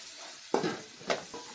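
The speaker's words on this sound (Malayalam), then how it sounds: "എന്നിട്ട് നമുക്ക് ഉള്ളി ഒന്ന് നന്നായി വാട്ടിയെടുക്കണം" Onions stirred in a hot pan with turmeric, gentle sizzling broken by two or three scraping stirs of a spoon, close and fairly quiet.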